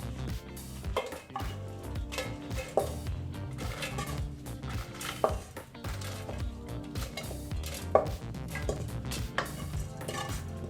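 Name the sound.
adding grated coconut and roasted spices into mixer jar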